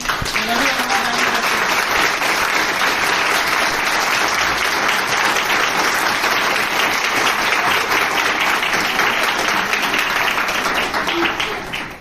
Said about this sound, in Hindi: तो जोरदार तालियां मेरी ग्रेट अप्लाइंग।